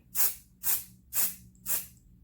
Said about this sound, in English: It is a serious spray. It's like a fire hydrant